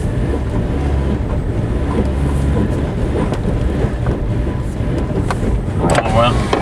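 The engine of a Suzuki Vitara that runs badly labors and bogs while trying to accelerate into traffic. A low rumble and road noise fill the cabin, with faint rattles near the end.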